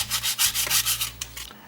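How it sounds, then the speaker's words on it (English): Wet-and-dry sandpaper rubbed back and forth over a gasket face while changing a thermostat on a TD42 GQ Nissan Patrol, loud close rasping strokes in a quick rhythm with brief pauses. "A little bit of wet and dry can just do the trick sometimes as well, just to give that gasket face a nice clean up."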